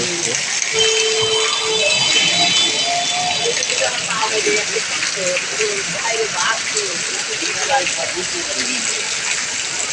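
Heavy rain pours at Jirani Bazar, Gazipur, in a dense, continuous hiss and patter, steady throughout, with a few faint voices and tones underneath.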